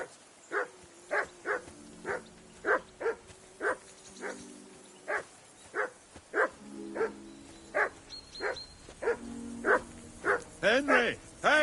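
A dog barks repeatedly in Kingdom Come: Deliverance 2, a steady run of sharp, evenly spaced woofs up close, ending in a quicker flurry of yips, while voices talk over the barking.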